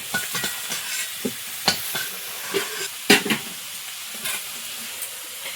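Whole cumin, bay leaf and whole garam masala sizzle in hot oil, a continuous close hiss punctuated by crackling pops and a few stirring scrapes, with no talking.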